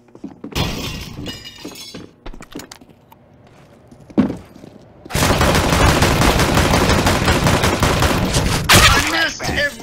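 Rapid bursts of gunfire in the game CS:GO, with scattered shots early on, then a sustained loud volley in the second half, with shattering debris and a brief voice near the end.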